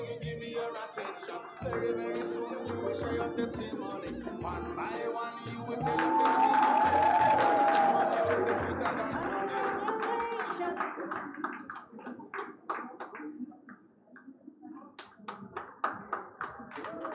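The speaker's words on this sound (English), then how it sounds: "Let's clap for them." An audience at a graduation ceremony claps steadily for the graduates, with light, dense hand clapping spread across the room and a voice speaking over it throughout.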